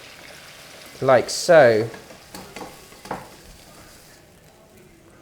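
Black pepper beef tips into a hot oiled wok at a street-side stall in Hong Kong, giving a brief close sizzle and a few clinks of utensils, with someone talking just before it and quiet afterward.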